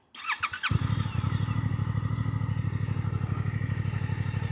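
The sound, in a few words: 2026 Suzuki GSX-8TT motorcycle engine idling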